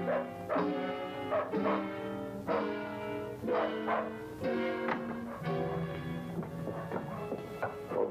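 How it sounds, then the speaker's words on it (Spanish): Dogs bark in repeated close, loud bursts, several barks in an uneven rhythm, with yips toward the end and no talking over them. "qué ladran los perros?"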